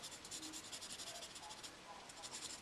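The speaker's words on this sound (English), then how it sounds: "eraser pen and just rub, just take a little bit that way" A Faber-Castell eraser pen rubbing over graphite on paper in a drawing of a face, a faint, rapid back-and-forth scrubbing heard up close and alone.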